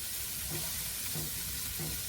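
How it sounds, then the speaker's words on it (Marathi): Steamed green peas and sprouted legumes sautéing in a pan give a steady close sizzle, with three soft stirring scrapes at regular intervals. "आता यामध्ये मी हिरवे वाटाणे घालते वाफवलेले, थोडे परतून घेऊया."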